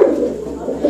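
Salara pigeons perched to one side cooing, a close, loud low burbling coo that swells at the start and again near the end of a brief moment.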